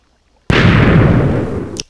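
A redstone-powered TNT cannon in Minecraft fires a single loud, sudden blast that rumbles on for over a second before cutting off, followed by a short faint pop.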